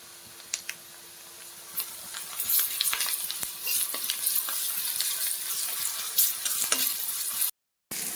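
Ginger garlic paste fries with onions in a pan for tamarind-leaf chicken curry. A close, crackling sizzle carries scattered stirring clicks and scrapes, grows busier after the first couple of seconds, then cuts off briefly near the end.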